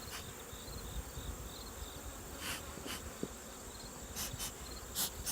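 A steady, soft drone of many honey bees buzzing around an opened hive after a little smoke, with a few individual bees flying close past.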